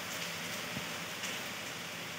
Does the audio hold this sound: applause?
no